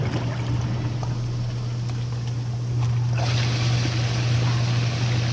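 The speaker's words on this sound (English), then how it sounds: "we now have both pumps pumping" Hot tub pumps running with water flowing, a steady low mechanical hum under continuous rushing, churning water that grows a little louder partway through, with no talking.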